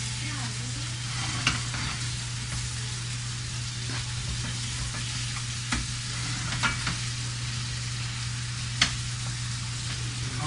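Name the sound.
tomato sauce simmering and sizzling in a pan over medium-high flame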